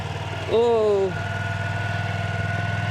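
A manual motorcycle idles steadily at a riding academy training course, its low rhythmic engine pulse continuing throughout while a person speaks briefly over it near the start.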